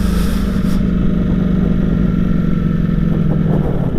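Ducati Streetfighter V4S naked motorcycle engine under way, a loud, steady close-up drone with a constant throbbing low tone throughout and no voices.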